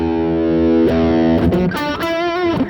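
Sustained distorted electric guitar notes through a NUX Cerberus pedal ring out loud and thick, shifting into a quicker melodic solo line with bright harmonics.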